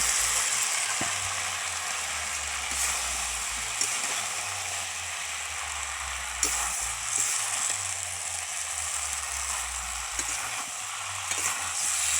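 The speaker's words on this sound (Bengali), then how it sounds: "এবার ভেজে রাখা এঁচোড় আলু আর ডাঁটা দিয়ে ভালো করে কষিয়ে নেব।" Jackfruit, potato and drumstick pieces stir-fried in spices in a pan make a steady, close sizzle, with occasional scrapes and clicks from stirring running throughout.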